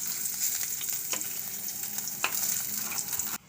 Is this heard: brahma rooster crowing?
no